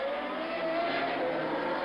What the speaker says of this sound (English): foot hard in, the flat 12 Ferrari engine behind him, and Gilles Villeneuve has just got a few co